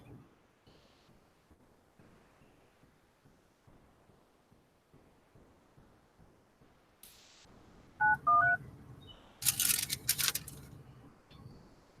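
A touch-tone phone is dialed with a quick run of about four beeps, followed by a louder burst of clicking and noise, after a long stretch of faint, sparse background sound.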